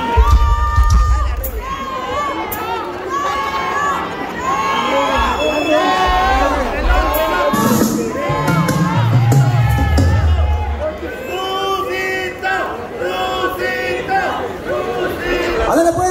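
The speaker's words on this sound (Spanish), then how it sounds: "tengo los aplausos, que se escuchen fuerte, fuerte los aplausos" Crowd at a ballet show cheering, whooping and clapping loudly and continuously, with children shouting among the excited voices filling the hall.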